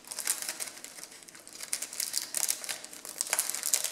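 A package sealed with strong double-sided tape is pulled and torn open by hand, giving a steady run of crinkling, crackling and ripping up close, with no talk.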